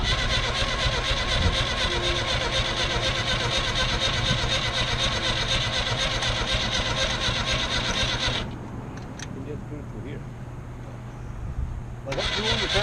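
Carbureted engine fitted with new plugs, electronic ignition and a rebuilt carburetor cranking and catching, then running loud and steady close by before the tone drops briefly and picks up again near the end.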